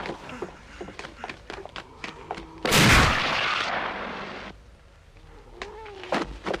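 Gunshots ring out in a Lucio Fulci zombie film: a series of sharp cracks and thuds, then one loud, sustained blast that slowly fades, followed by a few more scattered hits.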